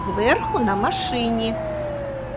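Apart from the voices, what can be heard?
fire truck siren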